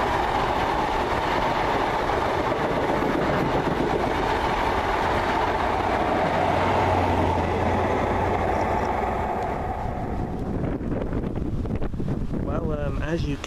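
A British Rail HST high-speed train rumbles steadily past on the rails in rain, loud and continuous, mixed with heavy wind buffeting the microphone before fading toward the end.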